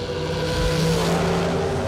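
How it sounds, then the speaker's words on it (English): A drag racing dragster engine roars loud and steady at a bracket race, a dense continuous rumble with a sustained tone and no talk. "Kenny Underwood brings out the dragster after selling the Firebird"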